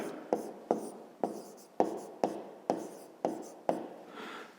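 Pen strokes scratch across paper as a maths solution is written out by hand, eight crisp, evenly spaced strokes, close and quiet, with no talking.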